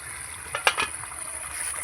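Egg curry simmering in a covered pan on a home stove, a faint steady bubbling with a few brief louder pops and clicks near the middle.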